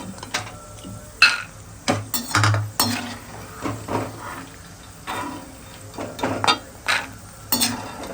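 Peanuts roasting in a pan, stirred with a metal spoon: irregular scraping and clinking strokes over a soft background sizzle, close and moderately loud, with no talking.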